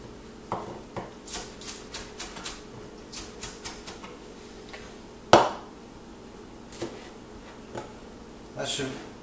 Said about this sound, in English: We're going to cut this relatively thin.